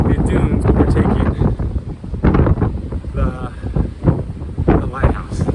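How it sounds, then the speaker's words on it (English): Strong gusting wind roaring across coastal sand dunes beside a lighthouse, loud buffeting rumble against the microphone throughout, with a voice talking underneath. "It's super windy"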